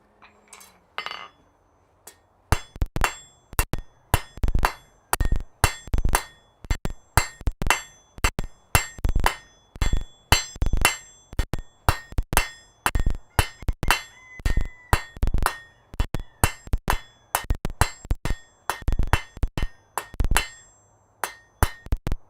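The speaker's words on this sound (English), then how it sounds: "Actually, I can start forging that." In a smithy, a hammer forges hot metal on an anvil with a long run of sharp, ringing strikes at a steady working rhythm. It sounds close and clear, with no talk.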